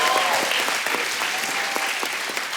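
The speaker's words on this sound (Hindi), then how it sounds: "जोरदार ताली पहले ही।" Studio audience applause on the Kapil Sharma Show comedy set: dense, steady clapping from a large crowd, close and continuous, with a faint voice underneath.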